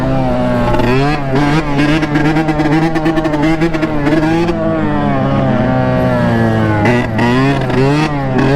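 A two-stroke dirt bike engine revs hard and loud, its pitch climbing and dropping as it pulls through second gear and shifts, with a raspy, buzzy exhaust note close by.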